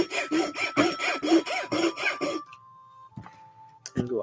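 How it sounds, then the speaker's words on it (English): A metal file rasps in steady back-and-forth strokes, about eight rhythmic passes, close and loud, then stops, leaving a faint hum and a couple of knocks. "Let's get to filing."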